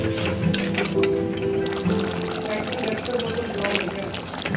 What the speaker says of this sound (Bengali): দিয়ে দেবো জল, জল অল্প করে দেবো, বেশি দেবো না